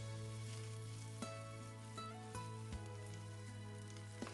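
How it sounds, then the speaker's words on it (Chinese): Minced meat with scallion, garlic and diced red pepper sizzling in a pan as it is stir-fried, a faint steady crackle with occasional soft scrapes and taps of the spatula. "再把葱、蒜、红椒丁加进来翻炒，炒出香味"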